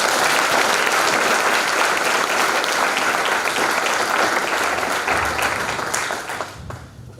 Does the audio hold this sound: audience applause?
yes